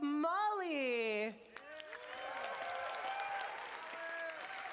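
An audience claps and cheers after a loud voice announces a performer, the applause rising into a steady, moderately distant wash of clapping that fills the rest of the span.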